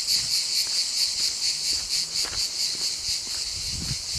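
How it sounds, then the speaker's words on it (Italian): Cicadas singing steadily on a hillside above the town, a dense continuous high buzz throughout, with faint footsteps and small rustles underneath. "Senti come cantano quelle cicale."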